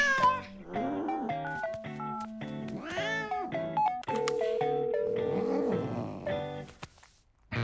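A domestic cat meows repeatedly in a series of drawn-out, rising and falling cries, some long and wailing like caterwauls, close and fairly clear against a quiet background.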